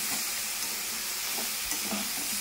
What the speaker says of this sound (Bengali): কষানো আমার হয়ে এসছে, কারণ দেখো নিচে লেগে যাচ্ছে মশলাটা